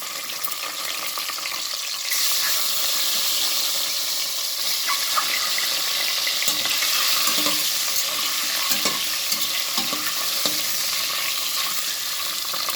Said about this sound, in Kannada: ಇವಾಗ ನಾನು ಮೊಟ್ಟೆಯನ್ನು ಇದರಲ್ಲೊಮ್ಮೆ ಹಾಕ್ಕೊಳ್ತೇನೆ.